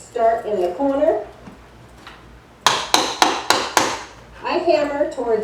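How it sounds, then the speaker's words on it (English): Hammer striking the handle of a scraper to lift asbestos floor tiles off a hardwood floor, five sharp close knocks in quick succession, with speech before and after. "I hammer towards the bottom part of the handle"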